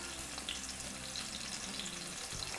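Spicy chicken pieces frying in hot oil in a pan, a steady close crackling sizzle with fine popping throughout, no talking.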